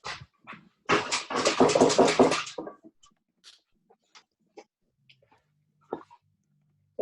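A dog moving toward baby rabbits gives a burst of whimpering, panting sounds near the start, followed by scattered faint soft noises in an otherwise quiet room.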